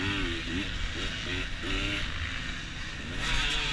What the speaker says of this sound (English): I noticed that I'm on the gas, off the gas quite a bit, like I'm really playing with the throttle.